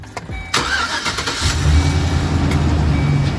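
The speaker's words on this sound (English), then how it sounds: "we're gonna turn the car on" A Chevy Express 2500 van engine cranks briefly and catches, then settles into a steady, close idle rumble.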